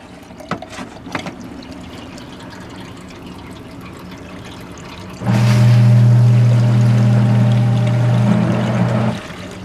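Water drains from a Vevor KZ-F15 15-liter ultrasonic cleaner, a steady loud gush and rumble starting midway and running for several seconds, preceded by a few faint knocks.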